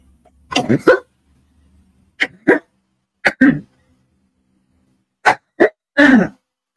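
A person coughs in short bursts, several separate harsh coughs with pauses between them, close and loud against an otherwise quiet room.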